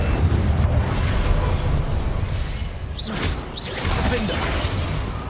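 Incendio fire spell cast in Hogwarts Legacy during combat, a loud continuous roaring, crackling blast of flame with a couple of whooshing bursts layered in, close and dense throughout.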